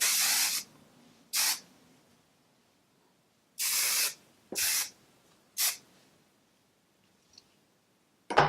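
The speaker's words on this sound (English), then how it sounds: "you can add some Shine Spray by Suavecita as well." Several short hissing bursts from a can of Suavecita hair shine spray, some longer and some quick, separated by pauses; close and fairly loud, with no voices.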